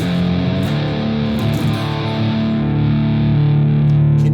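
Distorted electric guitar tone from a BIAS amp, captured through a microphone: loud, saturated sustained chords that ring out and shift slightly in texture, played alone with no voices.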